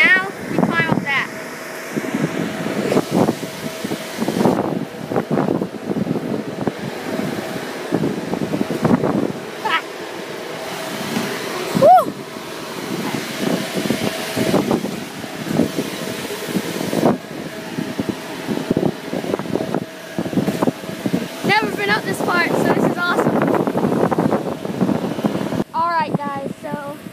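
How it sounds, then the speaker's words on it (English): Strong wind buffets the microphone high atop a tall farm grain bin, a steady rushing roar with gusty bursts throughout, while a person talks intermittently over it. "it is so windy up here"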